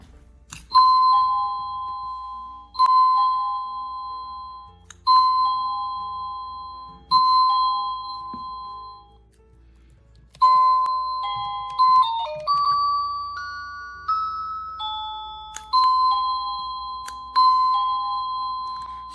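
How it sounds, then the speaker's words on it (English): Wireless doorbell receivers from a waterproof full-house kit chime again and again, playing ding-dong melodies over and over in bright, clear tones. A few different tunes cycle through with brief pauses between them, and no one talks. "the other receivers sync with this receiver, and the same doorbell sound goes through all three."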